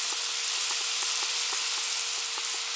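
Meat and blended tomato mixture frying for paella gives a constant, dense hiss of sizzling oil with faint rhythmic ticks, close and steady, with no speech.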